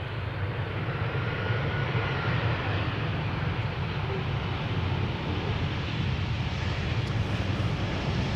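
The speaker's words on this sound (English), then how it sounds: "Air Baguette landing in the meantime." An airplane landing at Amsterdam Schiphol Airport gives a steady, loud engine roar that fills the whole stretch without letting up.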